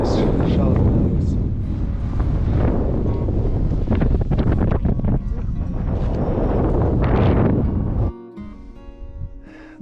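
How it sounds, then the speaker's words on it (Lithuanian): Strong, cold mountain wind on a hike near Zakopane toward Kondratowa peak buffets the microphone with a loud, steady roar that drops away abruptly near the end; a voice can be heard under the gusts. "labai vėjas didelis, šaltas"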